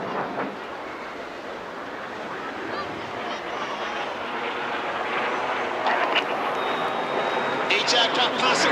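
Display aircraft flying the Boomerang manoeuvre at an airshow, a steady jet roar that swells closer and louder, with a faint whistle near the end.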